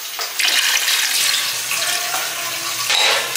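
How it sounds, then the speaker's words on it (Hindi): Water pours steadily into a pot of meat being cooked for yakhni pulao, a loud, close splashing stream that swells and eases slightly. "और भी पानी जाएगा।"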